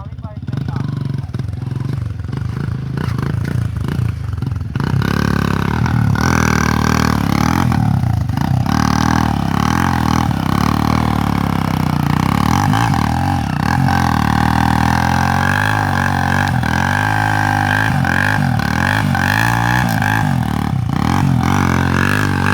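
Motorcycles with engines running and revving steadily, loud and close, along with clattering and people talking over the noise.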